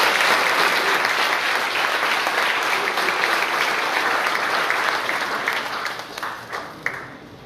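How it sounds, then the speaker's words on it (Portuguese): A church congregation applauds during a communion evening service, steady dense clapping filling the room and tapering off toward the end, with no speech over it. "Você pode dar uma salva de palmas a Jesus."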